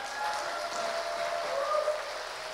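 A church congregation at a summer retreat worship seminar applauds in thanks for a pastor, a soft, continuous wash of clapping with faint tonal sounds threaded through it.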